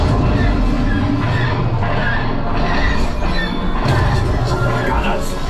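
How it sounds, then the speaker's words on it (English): A loud rumbling train roars continuously with clattering wheels, while voices talk over it, heard on the Millennium Falcon: Smugglers Run simulator ride at Disneyland. "There's the train."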